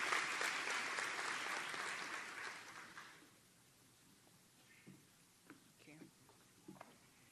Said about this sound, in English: Round of applause for Kismet Jones.